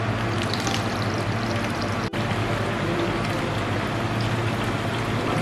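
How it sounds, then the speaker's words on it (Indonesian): A water sample running from the tap of a mixer into a basin: a steady, continuous splashing flow with no pauses and no talk. "kita buka keran untuk tempat keluarnya sampel"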